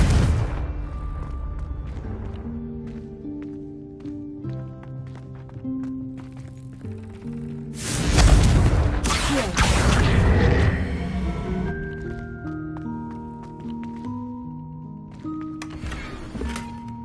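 A Confringo blasting spell explodes in Hogwarts Legacy, a loud booming burst that swells for about two seconds over steady game music, with smaller impacts and a later short blast near the end.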